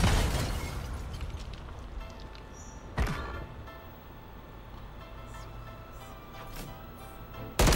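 A grenade blast in a shooter video game: a sharp burst at about three seconds stands out over steady gameplay noise, followed by a few fainter pops and another thump at the very end.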